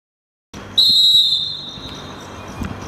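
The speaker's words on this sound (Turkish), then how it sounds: "İkinci yarı Mustafa Kaynağ'ın düdüğüyle başladı" A referee's whistle starts the second half of an amateur league football match in Ankara. One loud, sustained blast comes after a moment of silence, then fades into open-air crowd and field ambience.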